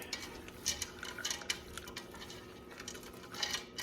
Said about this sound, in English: We're going to go ahead and add in our corn. Give it a nice stir.